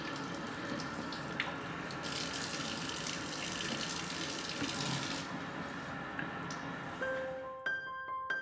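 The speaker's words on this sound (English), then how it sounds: "Then you're supposed to run the water through." Water runs steadily through a newly assembled Travel Berkey gravity water filter, a continuous close splashing flow that fades near the end, with no voices.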